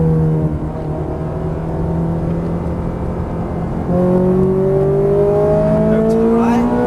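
A Ferrari F430 accelerates at full throttle on a track, the engine note climbing steadily from inside the car, loud and close, shifting up and rising again.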